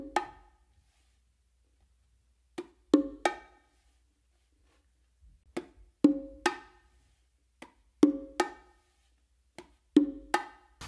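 Bongos played by hand, non-dominant hand working the macho drum with slap, finger and open strokes, mixed with open tones on the hembra: short sharp hits in grouped bursts separated by pauses, close and clear, no talking.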